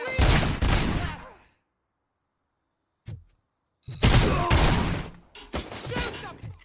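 Loud bursts of automatic gunfire in the video game RoboCop: Rogue City, a heavy volley that cuts to silence, a short thud, then more rapid shooting with impacts and a brief voice cry.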